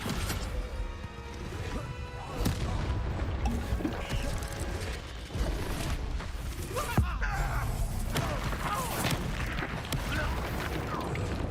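Spell impacts from the video game Hogwarts Legacy, dense crashes and mechanical clanks over a continuous loud battle soundscape, with a voice casting spells.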